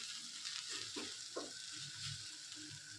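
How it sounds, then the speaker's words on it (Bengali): Red amaranth greens (laal saag) being stirred in a pan as the last moisture cooks off: a gentle, steady sizzle broken by several soft scraping strokes of a spatula, close and fairly quiet, with no voices. "আর একটু এভাবে নাড়াচাড়া করলেই"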